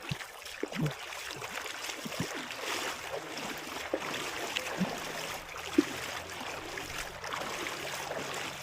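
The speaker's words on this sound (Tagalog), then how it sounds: "Magkatawid ulit tayo ng ilog." River water runs steadily during a crossing, a continuous broadband wash with faint splashes and trickles, fairly quiet and heard alone without talk.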